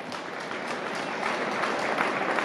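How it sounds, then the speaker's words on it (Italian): A crowd in Naples applauds a marathon runner at the start of a half marathon event, a dense, even wash of clapping from many people that holds steady and grows slightly louder over a couple of seconds. "L'applauso di Napoli per Mukhtar Edris."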